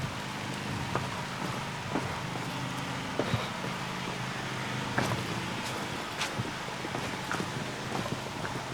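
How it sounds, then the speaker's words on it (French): Steady rain falls on Réunion island near a hillside village, a dense even hiss broken by scattered louder drops hitting nearby surfaces, with a light breeze adding a soft rush. "Il pleut"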